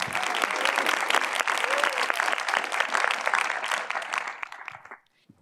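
Audience applause for two panelists on a conference stage, steady dense clapping from a hall crowd that fades out near the end.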